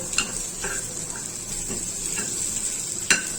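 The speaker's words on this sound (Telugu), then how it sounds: "ఇవన్నీ వేయించుకుందాము" Dried red chillies, coriander seeds and fresh coconut being dry-roasted in a pan, a soft steady sizzle with occasional scraping clinks of a spatula against the metal, close and fairly quiet.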